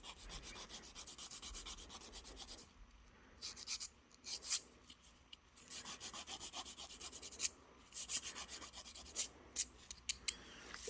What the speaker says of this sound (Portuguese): Então, eu vou lixar essa unha. Dar formato para ela.